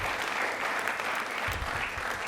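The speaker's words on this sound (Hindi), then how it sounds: "एक बार तालियां जोरदार हो जाए मैम के लिए भी" Hearty clapping from a studio audience on a Rajasthan quiz show, continuous and fairly close, with a low rumble joining halfway through.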